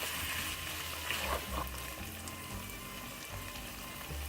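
Bicol laing sautés in a pan, a steady soft sizzle and bubbling hiss at moderate level with a few faint clinks of a utensil, no voices.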